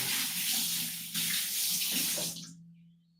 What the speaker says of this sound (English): we'll wash my hands.